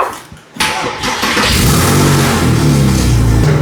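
A cheap used Porsche starts up with a brief cranking whir, then catches and settles into a loud, close, steady idle that holds to the end.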